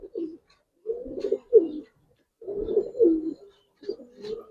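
Ring-eyed Giribaz pigeons at a pigeon farm give soft, low, throaty coos in several short bursts separated by brief pauses, heard close by in otherwise quiet surroundings.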